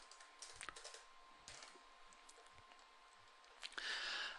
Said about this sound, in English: type in either your username or your password